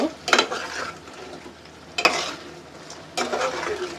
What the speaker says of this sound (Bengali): আমি এখন এই মাছটাকে উঠিয়ে এই মশলার ভিতরেই আমি হচ্ছে লাউ কষিয়ে নিব